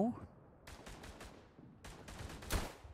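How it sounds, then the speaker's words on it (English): Rifle and machine-gun fire in a World War One shooter game at Verdun, several sharp bursts of shots in quick clusters with pauses between, heard over faint background noise. "There's no way I missed that shot up close."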